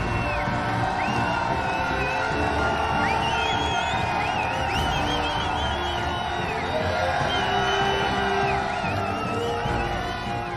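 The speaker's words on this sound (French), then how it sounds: "C'est l'entrée triomphale sous une nuée d'applaudissements." A big football crowd cheers and whoops as a team makes its entrance, a loud, dense roar with shouts and whistles rising over it, sustained the whole time, with a voice faintly underneath.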